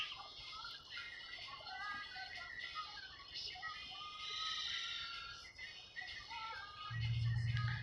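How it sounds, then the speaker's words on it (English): Loud bird chirping from trees in downtown Las Vegas around sunrise, with repeated bright calls over a steady bed of city ambience and occasional street noise. "I'm trying to find that bird. That bird is really loud."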